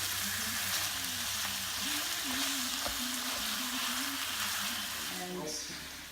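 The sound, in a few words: onions frying in pan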